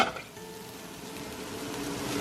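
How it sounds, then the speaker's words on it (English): Vegetables and mushrooms saute in a hot pan, giving a steady, close sizzle that holds at an even level throughout with no talking. "as I'm sauteing my vegetables with my mushrooms"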